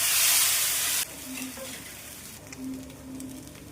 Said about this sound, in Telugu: పెనం ఇలా బాగా హీట్ ఎక్కిన తర్వాత ఇలా మనం బేసన్ని వేసేసుకుందాం